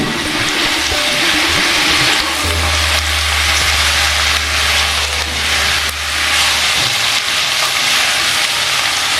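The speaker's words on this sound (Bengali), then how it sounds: "একটু রং ধরা পর্যন্ত আমি নাড়াচাড়া করে নিচ্ছি" Jackfruit and potato pieces fry in a pan while being stirred, giving a loud, steady, close sizzle that runs throughout with a low hum underneath for part of it.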